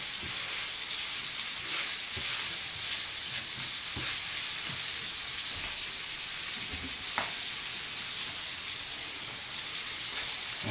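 Continuous crackling sizzle of burgers frying in a pan, with scattered pops and an occasional faint tap, steady and close.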